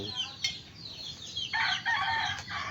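A large bearded chicken, a hen of a prize-winning fighting breed, gives a few close clucks and rising calls over steady farmyard background noise, with no talking.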